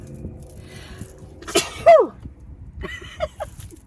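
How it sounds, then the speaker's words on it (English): A single sharp sneeze close by, preceded by a quick breath in, followed by a few soft vocal sounds and a sniff. "Oh, now I got to sneeze."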